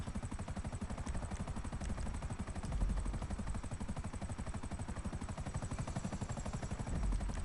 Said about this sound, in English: But that guy's in a helicopter.